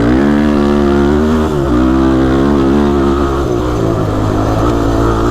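A small engine idles steadily right after its choke was swapped for a spare, a loud, close, continuous drone with a slight dip and shift in pitch partway through.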